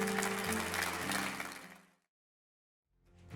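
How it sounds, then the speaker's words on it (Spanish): A church congregation applauds during a service: a dense wash of clapping under a low steady hum for about two seconds, then it fades into silence before noise briefly returns. "Le das un aplauso a ese Rey."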